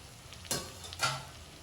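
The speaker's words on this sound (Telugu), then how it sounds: "చూసారు కదా ఫ్రై అవుతుంది వంకాయ" Eggplant fries in a pan with a low steady sizzle, punctuated by two distinct stirring scrapes about half a second apart, close and fairly quiet.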